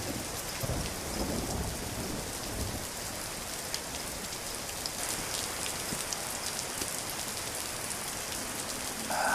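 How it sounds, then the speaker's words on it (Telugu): Steady rain falls on surfaces throughout a thunderstorm, with low thunder rumbling underneath; the downpour stays even and continuous, with no voices. "వర్షం తగ్గాక వెళ్ళొచ్చులే"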